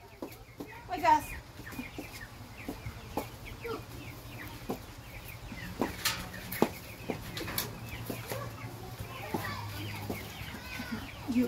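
A live chicken about to be slaughtered clucks in soft, scattered calls close by, amid faint background chatter and light household noise.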